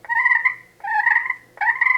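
Three soft, rolling purrs drawn on a slate turkey call, each a brief trilling burst separated by short pauses, close and alone.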